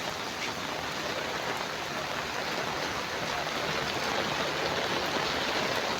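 Heavy monsoon-season rain pours down in a steady, dense, loud hiss that stays even throughout, with no voices.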